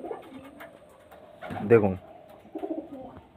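Pigeons with coloured eyes and pink bands coo in a few soft, throaty bursts, one fuller coo rising in the middle, while someone talks over them at close range.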